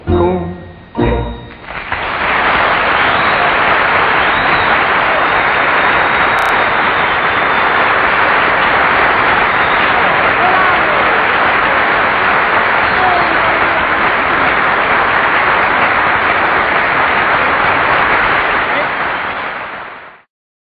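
Loud, sustained audience applause following a sung performance on a televised variety show, a dense wash of clapping that swells after a few brief opening claps and holds steady before fading out at the end.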